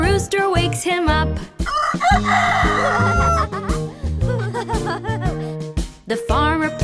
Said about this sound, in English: The rooster wakes him up